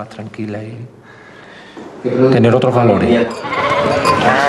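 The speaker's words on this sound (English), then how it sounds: "Early in the evening, they practice shearing sheep." Sheep bleat loudly and repeatedly at a shearing training course, several overlapping cries close by, with quieter handling noise in a short lull between them.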